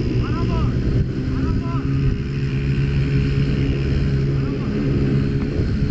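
A motorcycle engine drones steadily up close, loud and continuous with wind rush, as a voice talks briefly over it.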